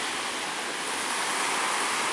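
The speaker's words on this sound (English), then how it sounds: "There are nice waves rolling" Waves breaking on a Lake Erie beach on a windy day, a dense continuous wash of surf and wind noise, steady and fairly loud with no distinct individual breakers and no voices.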